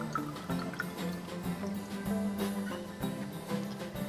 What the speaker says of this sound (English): Next, we're going to fill the rest of the jar with water.